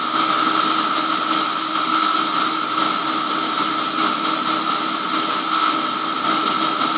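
Emco F1 CNC milling machine cutting 6082 T6 aluminium for a model engine backplate, a steady loud whine with fixed tonal bands and a constant broadband hiss, unbroken for the whole stretch with no talk.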